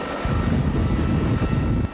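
A large Marine Corps helicopter roars close by in a steady, loud drone of rotor and engine that cuts in abruptly, holds, then drops off, with no voices.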